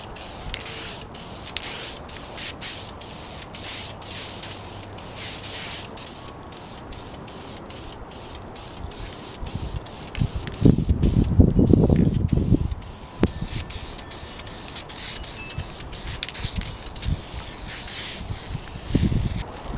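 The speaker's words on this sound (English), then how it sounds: "this self-etching primer is just laying down beautifully here" Self-etching primer sprayed from a can onto motorcycle forks during a Ninja restoration, a steady hiss running throughout with a louder, closer burst in the middle and brief pauses between passes.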